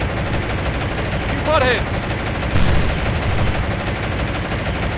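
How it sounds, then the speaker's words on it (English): Naval gunfire in a War On The Sea battle as enemy ships attack a battleship, a continuous dense rumble of shots with a couple of louder bursts, heard under a man's brief spoken remark. "they are actually attacking my battleship."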